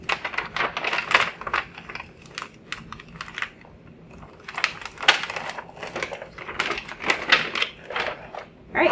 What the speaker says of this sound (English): I'm going to go ahead and peel off my liners